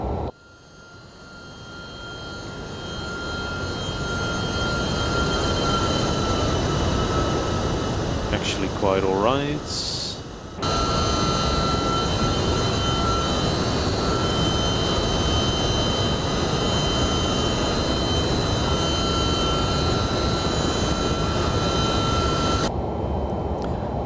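An MD-11 airliner's jet engines roar steadily through an external flyby in a flight simulator, a loud, dense rush that swells early, dips briefly and then holds, with a high whine on top and a short spoken remark partway through.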